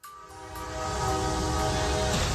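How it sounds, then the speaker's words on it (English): A freight train rumbles loudly on tracks in New York, horn blaring in a sustained blast as it rips through a cargo truck stuck on the crossing. "video from New York shows a freight train ripping through a cargo truck stuck on the tracks"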